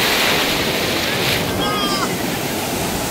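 Sea waves break and wash up the beach at Puri, a continuous loud roar of surf with wind buffeting the microphone.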